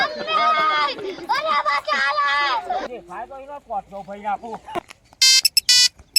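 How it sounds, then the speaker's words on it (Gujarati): A mobile phone rings during a village comedy skit. A melodic ringtone plays near the start, and a few seconds later bright, loud, beeping rings come in short repeated bursts after someone talks. "અરે આ ફોન આવ્યો"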